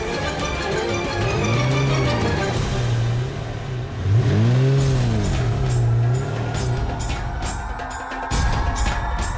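Car engine revving and accelerating hard during a chase through traffic, with rising and falling engine pitch sweeps, steady loud road noise throughout.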